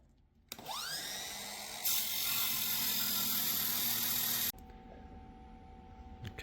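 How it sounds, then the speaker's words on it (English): A power tool cuts a leftover plexiglass sheet for a dog ramp, a high whining buzz that spins up, grows louder and harsher midway, then stops abruptly, leaving quieter room noise. "I'm going to cut a 12-inch wide piece of this plexiglass left over from COVID times."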